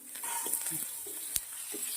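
Onion, green chilli, thinly sliced garlic and ginger sauté in a pan, giving a steady soft sizzle with a few scraping stirs and one sharp utensil tap partway through.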